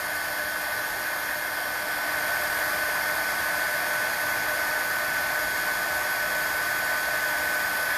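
A handheld heat tool blows steadily to melt embossing powder for a stamped card, a loud, constant whirring hiss that runs unbroken throughout with no voices.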